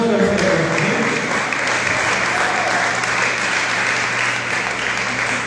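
Applause from a church congregation praising the Lord during a Spanish-language service, a steady dense clapping that stays loud throughout, with a faint voice underneath.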